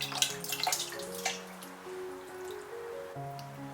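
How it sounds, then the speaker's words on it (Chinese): Oysters are rinsed in clean water, with splashing and dripping that starts in a busy burst of drips and sloshes and then settles into a softer, steady trickle, close by. "用清水多洗2遍，洗好了沥干水分"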